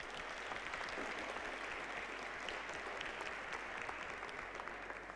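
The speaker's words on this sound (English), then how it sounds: "please join me with a big applause to our panelists for today" Steady audience applause for panelists at a multi-stakeholder plenary dialogue session, a broad even wash of many hands clapping, fairly distant and soft, with no talking over it.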